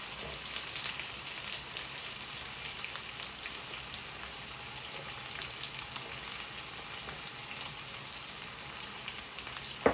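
Onions fry with mustard seeds in a pan, giving a steady, faint sizzle with fine crackling throughout and no talk.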